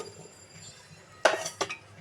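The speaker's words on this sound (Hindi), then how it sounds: "तो सबसे पहले मैं यहाँ पर कुकर ले लूँगी और कुकर में इन सारी कटहल को मैं डाल दूँगी।" Jackfruit pieces dropped into a metal pressure cooker give two sharp, close clinks about a third of a second apart, heard alone in a quiet kitchen.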